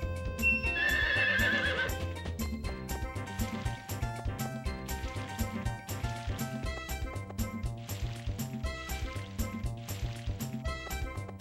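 A horse whinnies loudly near the start in Harvest Moon 64, followed by rhythmic hoofbeats and layered game music that carries on steadily to the end.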